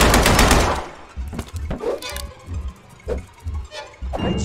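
Gunfire in a zombie shooter game: a dense rapid burst opens loud and close, followed by scattered single shots and short bursts with gaps between them.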